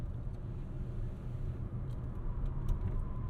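A 2022 Hyundai Tucson PHEV taking a corner on a test drive, a low steady engine and road rumble from inside the cabin, with faint ticks and no talking.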